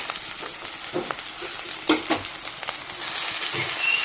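Steady hiss of taro frying in hot oil, with a few louder crackles and scrapes as it is stirred in the pan, close by.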